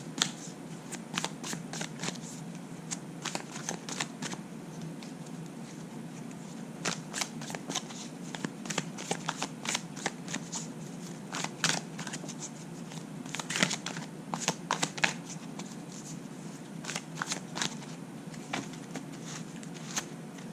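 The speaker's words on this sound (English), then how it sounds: "I like to cut the cards 3 times to the left" Tarot cards are shuffled repeatedly by hand, giving soft riffling flutters and taps that come in short bursts, close and fairly quiet.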